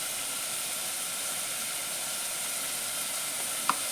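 Onion softening in a pan while cooking a home curry, a continuous soft sizzle and hiss with one sharp click near the end, no talking.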